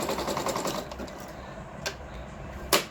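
A Singer Monami SC200 sewing machine runs fast while stitching picot, a steady mechanical whir that fades partway through, followed by two sharp clicks, with no talking.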